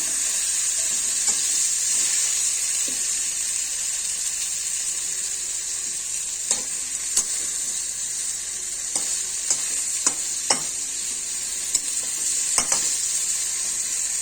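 Eggplant sautés in a pan for a pabda fish curry, with a steady sizzle running throughout and a spatula scraping and clicking at irregular intervals, close up and with no talking.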